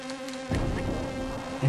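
Giant mosquito in the Amiga game Unreal, a close, continuous insect buzz that swells abruptly partway through and keeps droning, with no speech over it.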